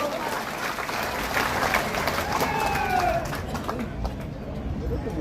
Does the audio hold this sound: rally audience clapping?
yes